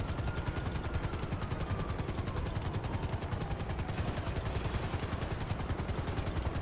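Helicopter rotors chop in GTA 5 with a fast, even, pulsing beat that runs unbroken throughout at a steady moderate level, with no talking.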